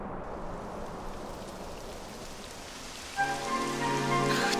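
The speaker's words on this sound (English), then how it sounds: "It would have to go and start raining, wouldn't it?" Steady rain falls in Dragon Quest XI S, a dense hiss of drops throughout, joined midway by a sustained musical tone from the game's soundtrack.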